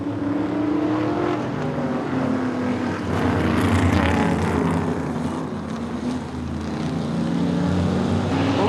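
Race cars on a short track, engines roaring together in a dense continuous drone with shifting pitch as the pack passes, loud and close with no talk over it.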